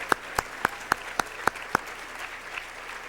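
An audience applauding sponsors produces a short run of about seven crisp, evenly spaced claps that stand out sharply against a quiet room, then stop.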